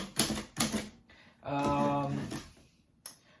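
Keys on a compact Royal typewriter, cleaned and working again, strike in a few sharp, close mechanical clacks, separated by a stretch of talk.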